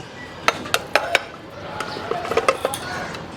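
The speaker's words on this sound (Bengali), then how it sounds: "এখন আমি একটা পিরিচ এখানে দিয়ে এটাকে একটু উল্টায় ঢেলে নিব" A saucer set down and a grape dessert turned out onto it in a home kitchen: a quick run of crisp ceramic clinks and taps, then a second softer cluster of small knocks, close and fairly quiet.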